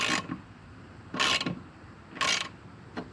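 An RV safety handrail fitting is being tightened down, heard as three close bursts of ratcheting, grinding mechanical clicks with short quiet gaps between them and a final brief click.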